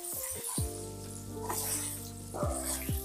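Chicken pieces frying for pickle crackle and sizzle steadily, with occasional short squeaky tonal sweeps over the frying.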